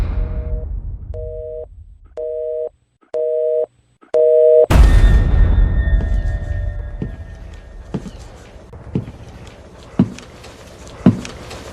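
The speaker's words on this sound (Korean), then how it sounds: "그러곤 갑자기 노턴의 전화가 끊겼습니다." A telephone busy tone after a call cuts off, several evenly spaced beeps with short gaps between them. A loud clatter follows, then sparse taps and knocks.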